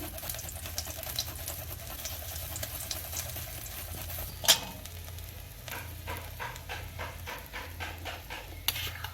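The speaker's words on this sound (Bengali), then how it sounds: "আমি একটু আদা এই যে একটু আদা দেব হালকা করে তেলের মধ্যে" Ginger frying lightly in hot oil in a pan while making beet and carrot kachori, a steady soft sizzle with stirring and a few sharp clinks of a spatula against the pan, heard alone without talk.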